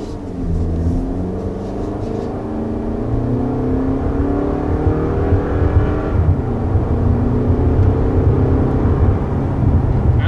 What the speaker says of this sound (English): we do have shift simulation versus the previous generation of Honda's hybrid system